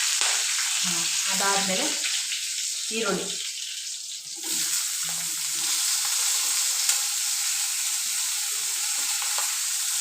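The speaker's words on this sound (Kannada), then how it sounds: "ನೋಡಿ ಚಟಪಟ ಸಿಡಿಯುತ್ತವಾಗ." Cumin seeds and curry leaves spluttering in hot oil, a bright continuous crackling sizzle close by, with someone speaking briefly over the first few seconds before the frying continues alone.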